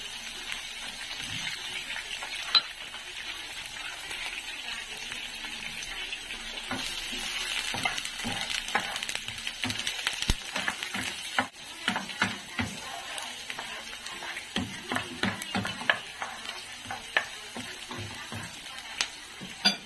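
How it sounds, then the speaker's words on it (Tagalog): Garlic and onion sautéing in a hot pan for a Filipino sweet and sour tofu dish, a steady loud sizzle with frequent scraping stirs and clinks of a utensil throughout, no talking. "Sasayin na ako ng ano, no? Sinama ko na yung bawang at sibuyas."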